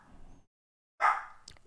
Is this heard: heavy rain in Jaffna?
no